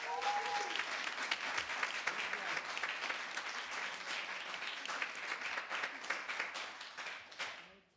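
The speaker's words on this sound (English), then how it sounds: "Give our mayor a round of applause." Audience applause for the mayor at a village board meeting, a sustained round of clapping across the room that fades out at the end.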